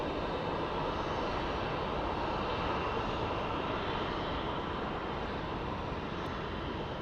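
At Phoenix Sky Harbor Airport an airliner taxies along the taxiway, its engines giving a constant, even rumble that holds steady throughout, with no speech.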